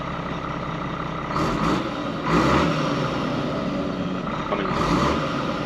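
An ERF truck engine runs at a steady, loud, close rumble with a couple of brief louder surges. A voice speaks one short word once.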